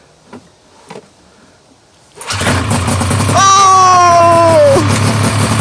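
A vehicle engine cranks and catches after a couple of faint knocks, then settles into a loud, steady rumble with a rising whine before cutting off near the end.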